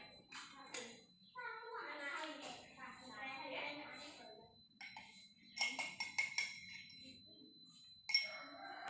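A spoon stirs powdered milk into water in a glass, with bright clinks of metal on glass coming in a quick burst of several taps and one more later, while a person talks quietly in the first half.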